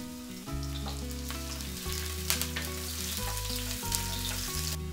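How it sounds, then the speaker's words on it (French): Garlic and onion fry in a few spoonfuls of oil in a sauté pan over high heat for udon noodles with beef, giving a steady sizzle under loud background music. "dans une sauteuse à feu vif, 2 à 3 cuillères à soupe d'huile, y faire revenir l'ail et l'oignon une quinzaine de secondes"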